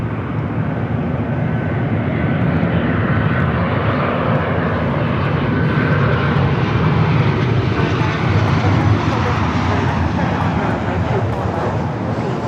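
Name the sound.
Delta Boeing 737 landing on runway 24 right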